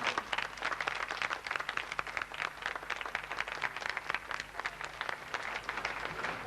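A large audience claps at the close of a marriage-anniversary ceremony and camp, dense, even applause that stays steady and full from start to finish.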